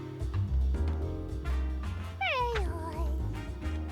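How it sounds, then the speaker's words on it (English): Purrloin, a cat-like Pokémon, gives its cry in the video game Detective Pikachu Returns: a short rising and falling synthesized meow over soft game music and sound effects. "Purloin, an adorable deceiver."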